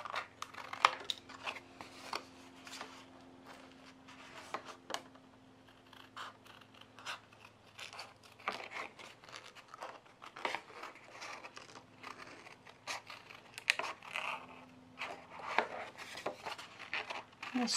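Scissors snip through paper to cut out a witch silhouette, giving irregular close crisp clicks and crinkles with short pauses and a faint background hum.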